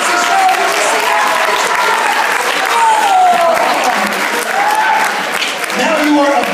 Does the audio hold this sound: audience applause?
yes